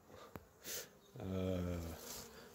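Bees buzz on a sunny balcony, a few faint passing hums with a brief sharp click and a louder low drone in the middle, sounding close and short.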